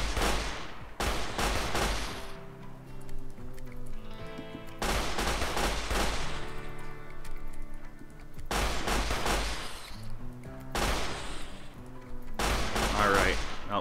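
Rapid bursts of automatic gunfire in modded Rimworld mow down a pack of alpha beavers, coming in three or four loud, dense volleys separated by short ringing pauses.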